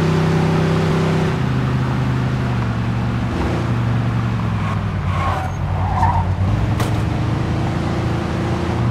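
A car skidding during a pursuit in Mafia II, continuous loud engine roar with long tire squeals and sliding, brief impact sounds near the end.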